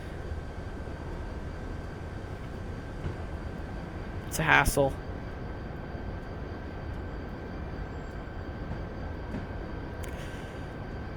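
A train runs in the Train Simulator 2016 game on the Chicago-Aurora line, heard as a low continuous rumble with a faint steady tone, while someone talks over it.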